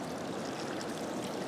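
Water trickles steadily out of an MSR water filter outdoors, a soft continuous splashing stream, faint and unbroken throughout.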